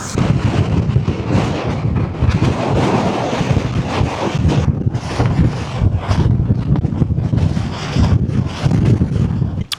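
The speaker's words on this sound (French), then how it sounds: "il y a tellement de vent, c'est un truc de fou." Strong coastal wind in Australia batters the microphone with loud, gusty rumbling and roaring buffets that surge and dip continuously, briefly easing in the middle before blasting again.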